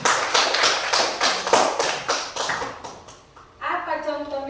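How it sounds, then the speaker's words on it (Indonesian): Pupils in a classroom give a round of rhythmic clapping for a classmate, a burst of quick claps that fades out before a voice starts talking. "Tepuk tangan untuk si anak."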